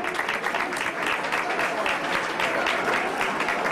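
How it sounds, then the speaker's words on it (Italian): Applause from guests at a dinner held in a villa, a continuous, fairly loud patter of many hands with faint voices mixed underneath. "ovviamente facciamo un applauso"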